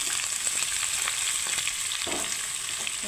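Boiled green jackfruit and soybean chunks frying in oil with potatoes and cumin for a Bengali curry, a steady close sizzle overlaid with repeated spatula scrapes and stirring clatter throughout.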